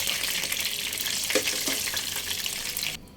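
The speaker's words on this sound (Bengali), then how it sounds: "মাছের মাথা খুব ভালোভাবে ভেজে নিতে হবে" Fish heads fry in hot oil with a loud, close crackle and a few stirring scrapes, keeping up for about three seconds before the sizzle drops off abruptly at the end.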